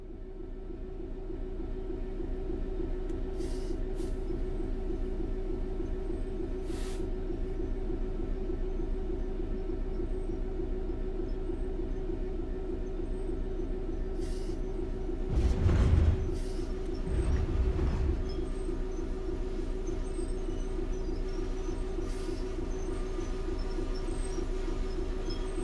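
A Class 66 diesel freight locomotive in Train Sim World 6 drones steadily as it brakes to a stop. A brief louder rumble and clunk of the wagons comes midway, then the engine settles back to a steady idle with no talk.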